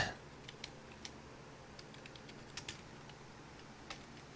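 Sparse, quiet clicks of a computer keyboard being typed on, a dozen or so separate light taps at an uneven pace over a faint steady background hum.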